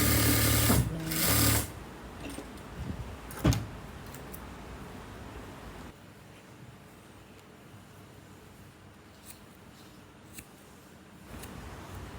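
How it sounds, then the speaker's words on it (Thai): A sewing machine stitches the front armhole of a blouse: a loud, close run of stitching in the first couple of seconds, then softer handling noises over a low background hum. "เรามาเย็บ วงแขนชิ้นหน้าก่อน"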